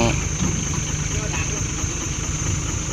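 A large diesel tractor engine idles with a steady low rumble and a faint high whine, close by, while a voice talks over it.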